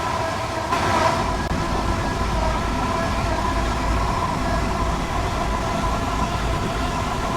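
A train in Train Sim World 3 on the 5L90 service from Dartford to Gillingham rolls along steadily, with a continuous loud rumble and rail noise and no pause throughout.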